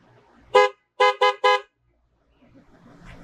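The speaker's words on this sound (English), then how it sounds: "We already put the little new horns on there. Beep beep." A car horn beeps four times nearby, one short toot then a quick run of three, followed by quiet background rumble.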